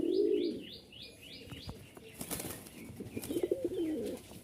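Repeated bird chirps in a quick even series, followed by low, soft cooing from pigeons nearby, with some fluttering and rustling.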